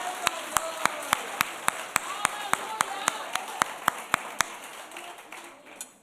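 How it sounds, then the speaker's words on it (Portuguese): Rhythmic clapping in unison at a church service, sharp evenly spaced claps about every quarter second over a murmur of voices, stopping abruptly near the end. "Aplauda Jesus mais uma vez."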